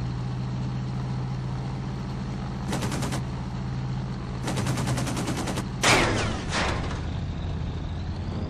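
Bursts of aircraft machine gun fire in the IL-2 1946 flight combat game, three rapid rattling volleys over a steady droning engine hum, the last burst loudest and followed by a crackling impact.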